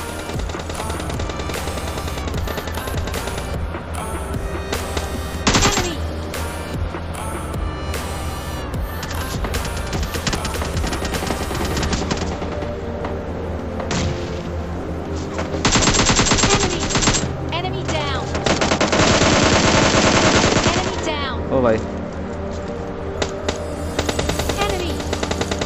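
Sustained automatic gunfire in a PUBG battle royale firefight, with rapid bursts rattling almost continuously and louder volleys near the end, under a game soundtrack with no clear talk.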